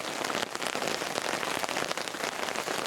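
Rain falls at a campsite in Mito during a spring family bonfire camping trip. It is a steady, dense patter of drops hitting surfaces, continuous and fairly close, with no voices.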